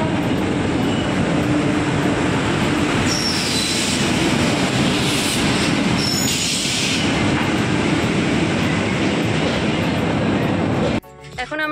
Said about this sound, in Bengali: এই যে আমাদের ট্রেন এসে